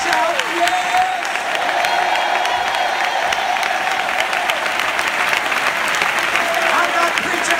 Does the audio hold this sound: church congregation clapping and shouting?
yes